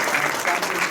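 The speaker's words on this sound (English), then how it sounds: "Please give Caroline another round of applause" Audience applause at a Rotary Club of Hickory meeting, a steady, dense wash of clapping filling the whole second at even loudness with no break.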